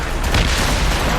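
Mortar fire bursting in a naval battle in Assassin's Creed Rogue, a heavy, loud boom rumbling and filling the whole moment with no talk over it.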